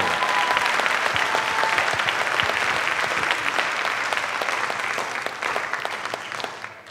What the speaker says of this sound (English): Come on, let's clap for Cleveland.